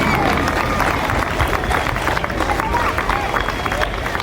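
Applause from an audience at a Ramleela opening ceremony honoring elders and veteran performers, a dense, continuous clatter of many hands mixed with crowd murmur, loud and sustained.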